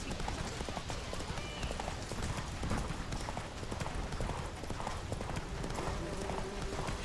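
Roach, a horse in The Witcher 3 game, gallops with fast, steady clip-clop hoofbeats that continue throughout, dense and fairly loud against a busy game soundscape.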